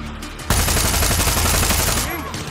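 Sustained automatic gunfire in the video game Far Cry 6 on PS5: a dense, loud burst of rapid shots running about a second and a half after a quieter opening, then tailing off.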